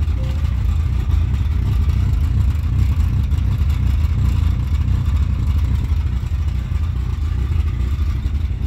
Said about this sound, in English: the last obvious issue we had, which I initially thought was going to be the most difficult and expensive to repair, was a random rough idle that the car had